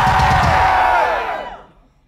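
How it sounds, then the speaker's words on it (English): A concert crowd at a show in Luxembourg screams loudly on cue, a dense roar that swells briefly and then fades out over about two seconds. "When I ask a question, you scream."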